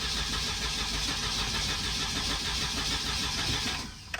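An abandoned Volvo 242 Turbo that won't start, its engine cranking steadily and loudly up close in an even churning rhythm before cutting off near the end.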